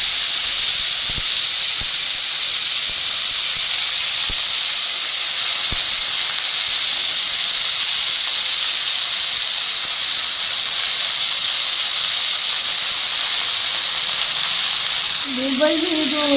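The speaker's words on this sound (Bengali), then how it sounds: "বউ রান্না করছে এখন কুঁদলি ভাজা" Sliced kundri (ivy gourd) fries in a hot pan in a home kitchen, giving a continuous loud hiss and sizzle with a few sharp crackles early on.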